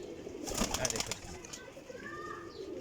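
Kasuri pigeons, purple-coloured birds, give soft cooing calls close by, mixed with rustling and handling noise through the short stretch.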